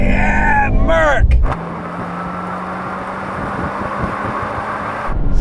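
Mercedes-AMG C43 and BMW M340i road cars accelerating hard in a drag race, a loud engine and wind rush with a rising gear whine early, then a steady roar at speed.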